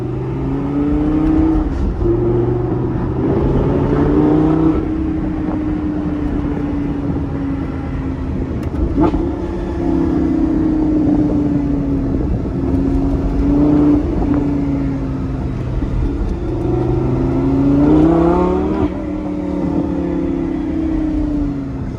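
A loud Lamborghini Gallardo engine revs and accelerates, its pitch climbing through repeated gear changes, with a deep roaring exhaust throughout.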